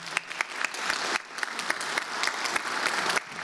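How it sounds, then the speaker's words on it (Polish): Audience clapping at a Polish government chancellery event, a steady burst of many hands from a fairly close crowd that stays level for a few seconds. "Brawa dla Państwa."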